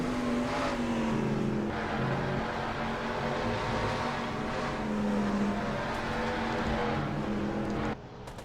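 Race car engines roaring in a racing video game at the Glen, a steady loud whine of several cars with shifting pitch as they accelerate and pass, cutting off abruptly near the end.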